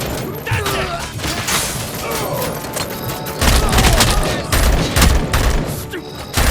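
Dense, chaotic gunfire in the RoboCop: Rogue City video game, a bank robbery shootout with rapid overlapping shots and heavy booms, loud and close throughout.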